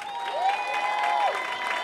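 A competition audience claps for the Azores contestant in a short, dense burst of applause. The clapping holds steady for about two seconds, with a faint crowd murmur behind it.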